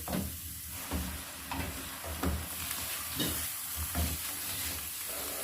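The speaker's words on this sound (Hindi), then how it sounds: "पालक को मैंने अच्छे से भून लिया है।" Spinach sizzles and fries in oil in a pot for a palak chicken dish, with a spoon scraping and stirring it in regular strokes under a steady hiss, close up, with no talking.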